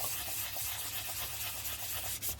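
Fine 400-grit sandpaper rubs steadily over a polymer clay bowl, a close, continuous hiss-like scraping with slight rhythmic strokes and a brief break near the end.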